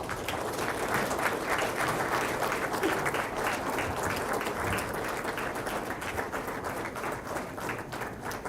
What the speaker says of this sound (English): I request you all to please rise and welcome her with a big round of applause